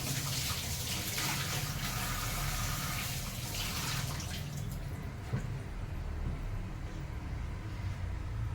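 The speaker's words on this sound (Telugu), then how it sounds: "ఇలా ఇంకా కొన్ని వాటర్ పోసుకుంటా." Water pours steadily into a pan of bitter gourd in a continuous splashing rush, then thins to a quieter trickle toward the end.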